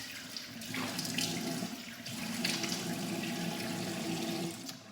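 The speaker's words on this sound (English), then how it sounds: "I'm just gonna wash it off, throw some water on my face" Water runs steadily from a sink tap with continuous splashing as someone rinses their face and chest, close and moderately loud with no talking.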